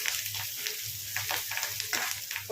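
Turmeric sizzles steadily in a hot pan for a home-style egg dish, a quiet continuous frying crackle with soft bursts and no voices.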